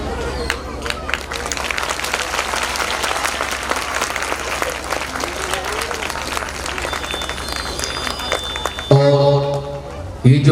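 An audience at a Bhagavat Katha religious discourse in Vrindavan claps loudly and continuously in a dense, steady roar of applause, ending in a brief burst of music or chanting.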